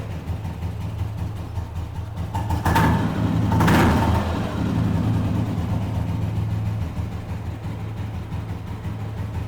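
A restored 1995 Royal Enfield Bullet motorcycle cranks to life with a short burst of revving, then settles into a steady low idle that thumps on close by, with no speech.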